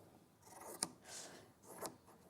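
Sewing scissors snipping through fabric, two crisp cuts about a second apart, close and fairly quiet with no talk over them.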